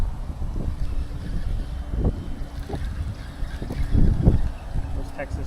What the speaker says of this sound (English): It's starting to get a little windy